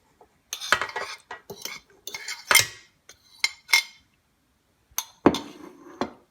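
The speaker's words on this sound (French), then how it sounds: "Tout d'abord, on mélange le beurre et le sucre." Butter and sugar are being mixed in a bowl for banana cookies, giving bursts of clinking and scraping utensil-on-dish sounds in irregular clusters with short pauses between them, close and moderately loud, with no talking.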